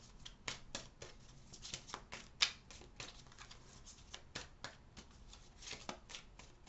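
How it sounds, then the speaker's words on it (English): Tarot cards shuffled by hand in a steady run of crisp, papery riffles and flicks, close and fairly loud, with one sharper snap partway through and no talk. "Shuffling wrong cards again."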